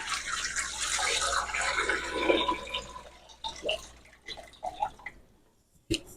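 Hot water pours steadily into a metal canner for a couple of seconds, then trickles and drips with a few clunks, close by.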